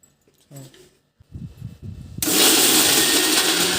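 After some handling thumps and a brief voice, a mixer starts grinding green chillies with soaked tamarind and salt for chutney, a loud, steady whirring roar that continues to the end.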